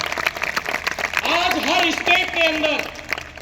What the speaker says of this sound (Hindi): आज हमारे कंपनी के MD and CEO doctor Sanjeev Kumar sir के लिए एक बार जोरदार वाली तालियां बजनी चाहिए